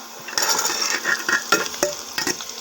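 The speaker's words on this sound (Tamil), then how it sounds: "ஸோ வெ வெங்காயத்தை நல்லா நம்ம வதக்கிக்கலாங்க" Small onions, peeled and cut, sautéing with garlic in a pan for sundakkai kuzhambu, a steady sizzle broken by scraping stirs and light utensil clinks against the metal.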